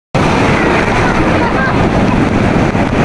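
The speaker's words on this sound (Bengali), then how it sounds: "দেখেছেন কত বড় একটা ঢেউ আসলো" Heavy sea surf rolls and breaks on the beach at Cox's Bazar, a loud continuous roaring wash of water with wind buffeting the microphone up close, filling the whole stretch.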